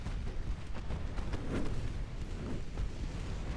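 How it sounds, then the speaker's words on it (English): Torpedo launched from a warship's aft tube in Ultimate Admiral: Dreadnoughts, a dull rumbling whoosh and boom set against constant low naval battle noise. "Torpedo away."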